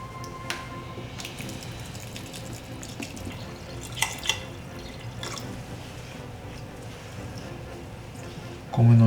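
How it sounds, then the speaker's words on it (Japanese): Water runs from a tap into a pot of rice for sushi rice, a steady splashing trickle with a few drips and clinks, close by, ending with a louder knock. "お水を入れていきます。"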